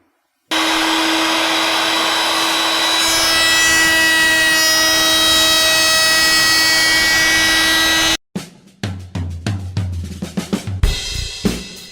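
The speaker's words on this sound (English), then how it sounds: "I can use my 1/2 inch diameter flush trim bit with a 3/4 inch diameter bearing" Router with a 1/2 inch flush trim bit and 3/4 inch bearing whines steadily for several seconds while trimming wood along a template, then stops abruptly, followed by a run of sharp knocks and clatter.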